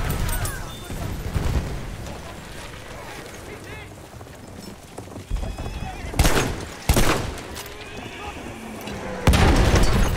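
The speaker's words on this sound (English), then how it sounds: "Oh, the horse is gonna get me now." A horse neighs and its hooves clip-clop in the Battlefield 1 video game, loud and close, with gunfire and heavy booms mixed in.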